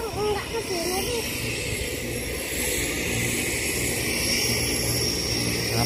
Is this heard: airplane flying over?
yes